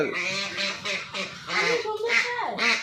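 Ducks on a duck farm quack in a run of rapid, nasal calls, several overlapping bursts close by and fairly loud, with a voice speaking among them.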